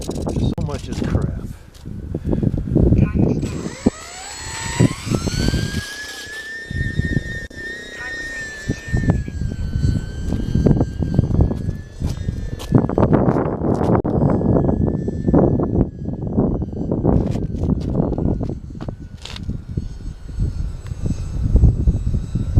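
Small UMX E-flite P-51 radio-controlled plane flying in high, gusty wind, its thin whining motor rising and falling in pitch under heavy wind buffeting and someone talking.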